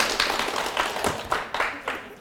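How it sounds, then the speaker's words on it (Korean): Scattered hand claps ring out from a lecture audience in a Korean real-estate law class, coming as a handful of separate close bursts rather than a full, sustained round of applause. "그 박수 하나가 저를 또 기분 좋게 합니다."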